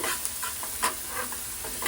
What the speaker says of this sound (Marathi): जोपर्यंत कांदा लाल होत नाही तोपर्यंत मिक्स करायचा.